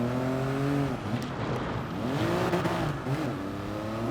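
Toyota GR Yaris hatchback engine in Gran Turismo Sport, revving steadily with rising and falling pitch sweeps as the car accelerates and shifts, loud and continuous throughout with no talk.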